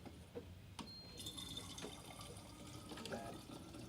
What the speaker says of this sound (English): I'm just getting water.